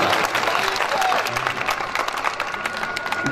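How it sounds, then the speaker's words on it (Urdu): An audience at a mushaira poetry gathering claps in a dense, lively burst that stays strong throughout, with scattered calls and voices mixed into the applause. "میں چاہوں گا کہ ایک بار تالیاں بجا کر مجھے بتائیں"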